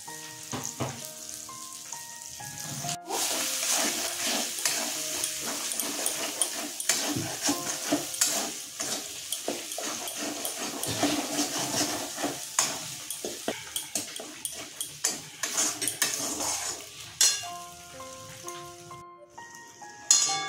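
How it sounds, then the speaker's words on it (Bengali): Masala for malai paneer is stir-fried in a pan with salt and a little sugar, giving a continuous close sizzle broken by frequent scraping and clinking strokes of a spatula, with no talking. "মশলাটা কষানো হয়ে গেছে"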